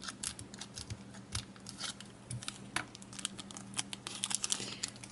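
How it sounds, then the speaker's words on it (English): Scissors snip through the foil of a Japanese Pokemon booster pack, with repeated close, crisp cuts and crinkling wrapper rustle in a quiet room. "I'm going for the scissors, because this is just absolutely ridiculous."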